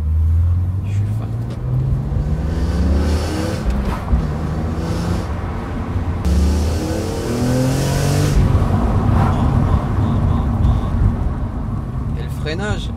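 A BMW M3 E46 with a manual gearbox accelerates hard, its engine note climbing through repeated rising sweeps between gear changes, loud and close inside the cabin while someone talks over it.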